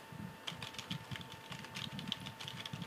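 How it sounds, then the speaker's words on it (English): Quiet, steady clatter of keys being tapped on a computer keyboard, irregular rapid keystrokes close by, with no speech. "You can probably hear the keyboard, that's kind of how I type now."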